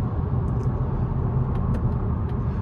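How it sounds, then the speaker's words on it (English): A 2022 Mazda 3 Turbo sedan's engine pulls hard as the 6-speed automatic kicks down, a steady low-pitched rumble and road roar heard from inside the cabin without a break. "Kicks down with the 6-speed automatic gearbox."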